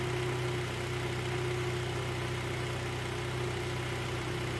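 A running car engine idles at a steady hum while a battery charging test is done, the drone holding even and fairly close for several seconds with no talk.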